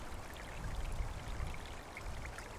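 Unfrozen lake water running under a bridge on a cold winter night, trickling like a small stream, with a steady, soft continuous wash of flowing water heard alone.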